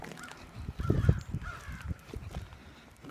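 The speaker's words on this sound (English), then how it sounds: "Crows." Several crows caw in the distance, with a low rumbling of nearby movement and wind underneath.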